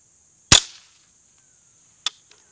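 A suppressed .22 rifle fires once with a sharp, fairly loud crack over a steady high background hiss, then a second brief crack follows about a second and a half later, as from a ricochet.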